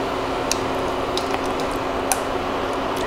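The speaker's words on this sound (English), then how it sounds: "I'm just going to pour that in here" Mayonnaise and white vinegar dressing poured into a bowl, soft wet squishing and a few faint drips against a steady background hiss, no talking.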